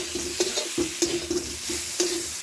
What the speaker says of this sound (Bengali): সব কিছু একসঙ্গে ভালো করে কষিয়ে নিচ্ছি।